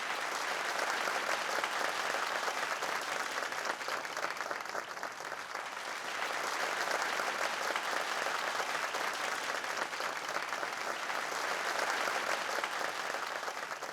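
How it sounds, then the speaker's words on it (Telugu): A studio audience on a TV show stage claps steadily for about fourteen seconds to welcome a guest. The applause is a dense, even wash of many hands that dips briefly midway, then swells again. "సో చప్పట్లు కొట్టి ఆయన్ని స్వాగతిద్దాం"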